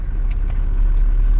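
Expedition trucks wait at a port to board a ferry at night, a low steady idling rumble close by, with a few faint metallic clinks on top.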